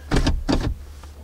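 A Lexus 450h's power window motor hums in two short pulses, close and fairly loud, inside a quiet cabin.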